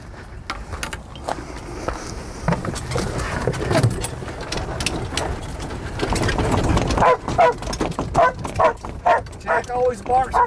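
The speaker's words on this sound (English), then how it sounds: "always barks going down the hill" A dog barks repeatedly while heading down a hill on a golf course near hole 8, the sharp barks growing louder and more frequent toward the end, with people talking over the start.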